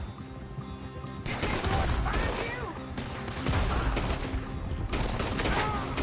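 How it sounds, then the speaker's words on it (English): Rapid bursts of gunfire in Red Dead Redemption on PS4, a loud, dense fusillade of overlapping shots during an alley shootout near a moonshine operation, with game voices beneath. "Well, shoot them then."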